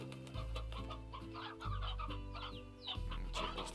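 Chickens in the farming game Slime Rancher cluck in a steady, close run over a droning musical background with no talk.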